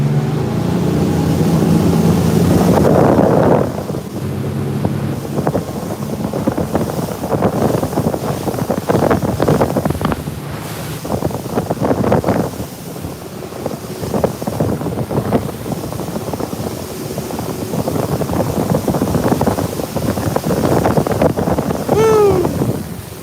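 Steady roar of a motorboat running over water, wind buffeting the microphone, engine and spray noise rising as the hull picks up speed onto plane.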